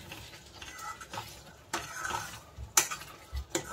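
A spoon stirs chana palak paneer masala frying in oil in a pan, with soft scraping and sizzling, a few sharper clinks against the pan and gentle shuffling at close range.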